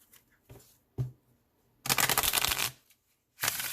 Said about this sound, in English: We'll just put down random cards.